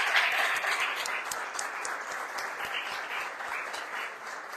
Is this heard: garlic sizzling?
no